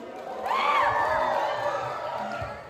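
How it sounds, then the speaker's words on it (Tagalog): Loud crowd cheering and shouting at the Miss Gay Calangcawan Sur 2023 pageant in Vinzons, Camarines Norte, swelling suddenly after a quiet start and holding as a dense, sustained roar of many voices that eases slightly toward the end. "maaari po bang makapaglambing ng isang malakas na palakpakan? Samahan na din po natin ng isang malakas na hiyawan."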